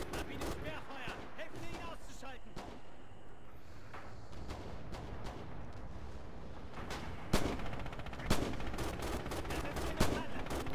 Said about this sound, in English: They're dropping artillery on Delta.